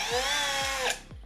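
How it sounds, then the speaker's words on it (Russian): An angle grinder cuts into a ceramic keyboard keycap, a short, high, whining buzz that cuts off and winds down near the end. "Просто давайте распилим болгаркой, как себя ведет керамика и как себя ведет пластик."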